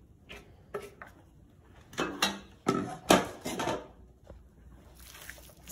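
Empanadas being set back into a cooking pan make a few scattered, soft clunks and light clatters. The sound is quiet and close, with pauses between contacts and no talking.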